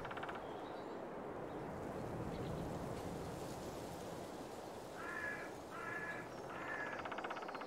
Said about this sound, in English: You can hear the warblers